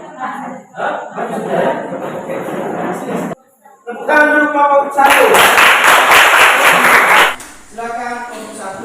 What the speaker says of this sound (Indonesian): Tepuk tangan dulu kelompok 1